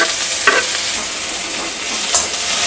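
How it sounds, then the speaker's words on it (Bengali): Chopped onions hit hot oil in a home kitchen pan while cooking fish fingers, giving a steady close sizzle with a couple of brief stirring scrapes. "তেল কিন্তু আমার গরম হয়ে গেছে। আমি যে পেঁয়াজগুলো কুচিয়ে রেখেছিলাম আগে পেঁয়াজগুলো দিয়ে দেবো।"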